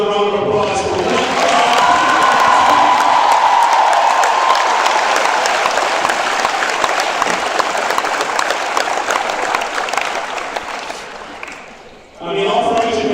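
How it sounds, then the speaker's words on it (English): A school assembly crowd bursts into sustained applause and cheering for the state-finals football team, loud and dense for about eleven seconds before tapering off, then briefly swelling again at the end. "Let's give this football team another round of applause"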